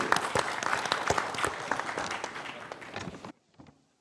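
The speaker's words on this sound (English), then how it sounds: "Round of applause for him." Dense, loud applause from a concert audience fills about three seconds, then cuts off abruptly into near silence with a few stray claps.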